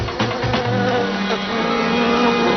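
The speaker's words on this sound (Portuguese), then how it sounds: "Quando o zumbido da última vespa desaparece" Wasps buzz in an animal battle, a loud, continuous close drone with wavering pitch that holds steady throughout.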